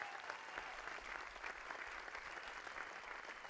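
Steady audience applause at a Summer Club event, dense clapping that continues evenly throughout at a moderate distance with no voices over it.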